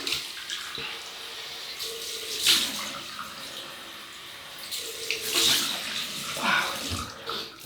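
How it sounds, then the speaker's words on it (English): Cold water runs from a tap for rinsing during a wet shave, a steady hiss of flowing water with splashy surges as hands or a razor pass through the stream, no talk. "We'll rinse that cold water."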